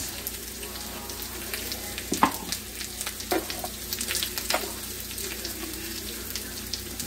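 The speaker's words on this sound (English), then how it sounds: "Cooking steak." Steak frying in a pan, a steady close sizzle with scattered pops and crackles, continuous and unaccompanied by talk.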